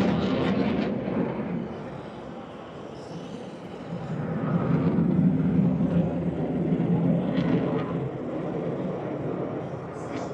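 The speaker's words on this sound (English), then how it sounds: "The Legacy Hornet is still operated in various air forces." A Legacy Hornet fighter jet flying an air show display roars as a broad, distant rumble that swells and fades over about ten seconds.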